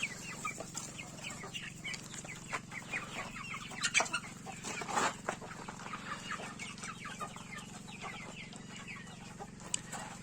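Chicks and chickens cluck and peep in a busy, overlapping chorus while they eat, with scattered pecking and rustling. The birds are close and moderately loud, and no one talks.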